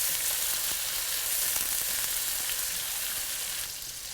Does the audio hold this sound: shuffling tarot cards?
no